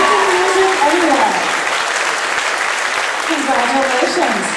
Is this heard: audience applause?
yes